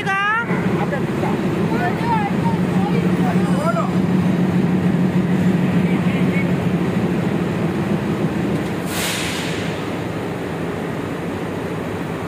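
A diesel locomotive engine idles steadily under repair in a loco shed, a continuous low rumble with a constant hum, while voices talk over it at the start and a brief hiss bursts near the end.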